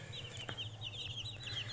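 White broiler chickens clucking softly in a small group, faint repeated chirpy calls over low background hum, no talk.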